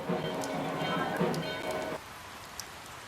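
Heavy monsoon-style downpour at Tarapith, drumming on surfaces with a dense hiss for about two seconds before easing to a softer patter.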